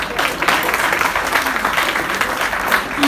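A college audience at a Hindi Divas event breaks into steady, dense applause, a continuous crowd of clapping with no voices over it.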